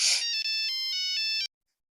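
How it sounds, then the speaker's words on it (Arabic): A phone rings with an incoming call, a bright melodic ringtone playing several tones in a steady pattern for about a second and a half before cutting off into silence. "دقيقه اما اشوف مين بيرن عليا"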